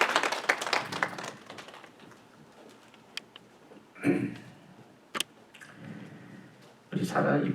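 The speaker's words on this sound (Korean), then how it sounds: "우리 가족에게 박수 한번 합니다" Members of a Korean Presbyterian church congregation in Las Vegas clap for a family at a confirmation service, with brief, uneven bursts of applause between quieter stretches and a few sharp single claps, fairly faint.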